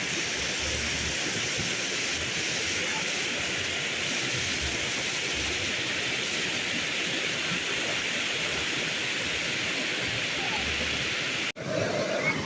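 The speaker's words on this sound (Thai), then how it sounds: "ได้ยินเสียงน้ำตกนี่เลยแหละ" Waterfall beside a nature resort in the mountains at Vang Vieng, a constant loud hiss of falling water rushing steadily throughout, briefly interrupted near the end.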